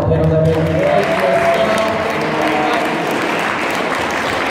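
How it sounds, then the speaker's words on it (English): A crowd applauds steadily at the close of an expo panel discussion, with clapping and a few cheers from a sizeable audience. It stays loud and sustained for several seconds. "one last final round of applause to all the panel members"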